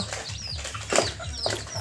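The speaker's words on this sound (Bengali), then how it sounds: "দেখেন, এই যে ডিমের মুরগি, ডিম পারতেছে।" Close, brief clucking from laying hens, a few soft throaty calls in quick succession.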